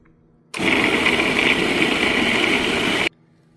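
A kitchen mixer grinder whirs for about two and a half seconds, blending sliced plantain for puttu. It starts abruptly from quiet, runs as a steady, close, high-pitched drone, then stops just as suddenly.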